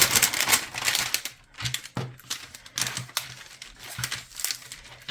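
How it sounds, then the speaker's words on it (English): Plastic film peeled back from a diamond painting kit, crinkling and crackling in a close run of short bursts that shift loudness as it pulls away, with no voices. "So I pull the plastic back."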